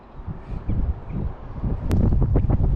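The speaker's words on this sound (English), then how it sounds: "A bit windy." Gusty wind buffets the microphone in rough, low bursts that grow stronger toward the end, beside an aqueduct where a narrowboat crosses.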